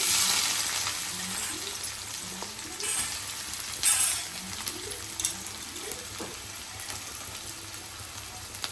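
Onions frying and being stirred in a pan of hot oil while making pesarattu pulusu, a steady close sizzle with occasional scraping stirs and clinks, no talking.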